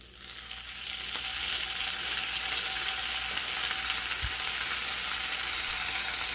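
Ham slices frying crisp in a hot pan for a sandwich, a steady, close, broadband sizzle that swells in the first second and then holds evenly, with one soft low knock partway through and no talking.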